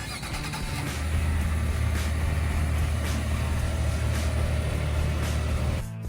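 A Nissan car engine runs after being started by remote, a steady low rumble that steps up in loudness after the first second and holds evenly, nearby, before cutting off at the end.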